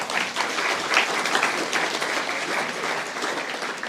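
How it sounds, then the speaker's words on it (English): A room of guests at a football league medal presentation breaks into sustained applause, dense, even clapping that carries steadily throughout. "Give him a round of applause."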